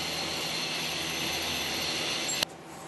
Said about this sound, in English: The turret indexes to mill the helical pockets on the previously face-milled sides.